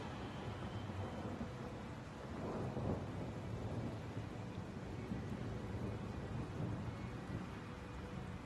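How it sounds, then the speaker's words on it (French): A chain lightning spell is cast in Baldur's Gate 3, producing a dense rumbling, crackling roar that swells to a peak and then stays as a heavy, steady storm-like wash. "Je vais devoir claquer mes meilleures chaînes d'éclairs sur le cerveau là."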